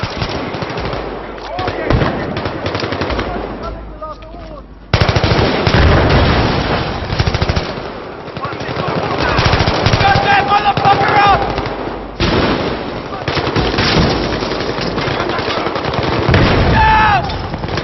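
Automatic and single-shot gunfire from the video game Battlefield 3 in the Fault Line level, with rapid loud bursts, short pauses and occasional louder reports, while someone talks over much of the action.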